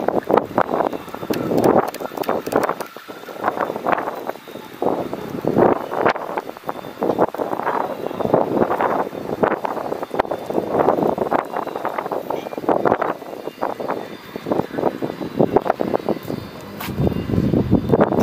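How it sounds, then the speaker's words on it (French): Strong wind from Storm Ciarán in Charleroi, Belgium, buffeting the microphone during lure fishing in loud, uneven gusts, rumbling continuously with no speech. "Putain, le vent, c'est juste pas possible."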